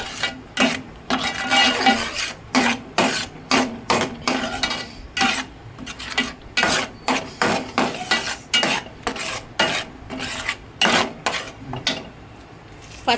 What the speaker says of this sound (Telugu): చూడండి మసాలా ఫ్రై అవుతూ ఉంది